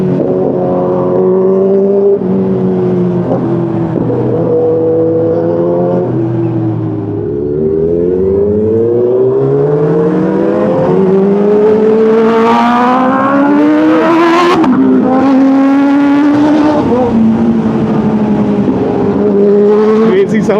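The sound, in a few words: Kawasaki H2 superbike exhaust revving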